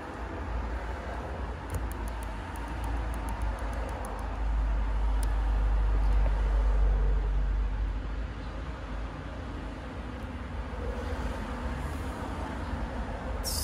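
A 1966 Corvette's 327 V8, stock with a mild cam and no supercharger, runs steadily after a fuel injection conversion, a continuous low rumble with a brief swell in the middle, close by and without talk.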